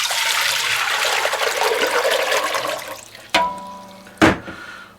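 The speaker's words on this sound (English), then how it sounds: "Now to a pot over medium-high heat, we're going to add in some water." Water pours in a steady, splashing stream into a pot set over medium-high heat on the stove, then stops, followed by two sharp metallic knocks.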